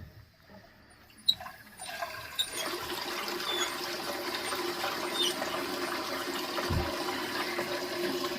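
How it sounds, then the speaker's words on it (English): Water rushes steadily into a Kohler toilet tank once the supply is turned back on, a continuous hissing fill that starts after a couple of soft clicks and holds level to the end. "And turn the water on"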